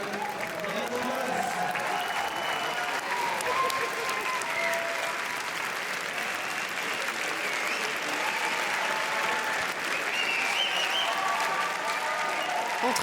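Sustained, dense applause from a large crowd greets Vanessa Paradis arriving on the red-carpet steps of the Grand Théâtre Lumière at the Cannes Film Festival, steady and loud throughout without a break.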